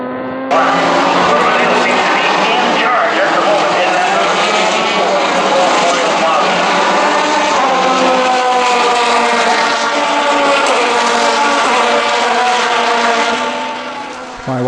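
A Pro Formula Mazda race car on the Sonoma track, overtaking another car: loud, close, sustained engine whine with sweeping pitch changes as it revs and shifts, running steadily for the whole stretch before easing slightly at the end.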